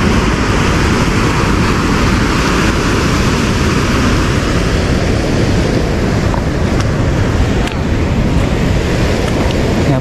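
Loud, rushing river water pours steadily past Leuwikeris dam on the Citanduy River, a dense, unbroken roar that fills the whole stretch without pause.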